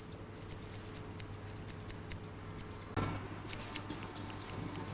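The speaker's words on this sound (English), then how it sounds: "I just move my scissors with the same direction in case if I miss any hair, I'll cut it" Quiet, crisp snipping of scissors cutting hair during a high fade buzz cut, repeated light clicks close by, with a faint hum underneath.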